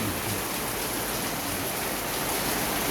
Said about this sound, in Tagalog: lakas ng ulan sama ng panahon